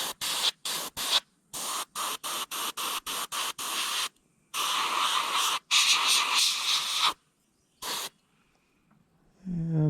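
An airbrush sprays white paint onto a largemouth bass skin mount in loud, hissing bursts. The bursts start as short rapid pulses and then turn into longer sustained sprays, with silent gaps between them.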